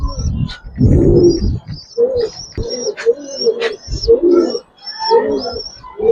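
Coloring and silver Giribaz pigeons coo and chirp close up in a repeated, rhythmic series of throaty calls, with bursts of lower sound mixed in between.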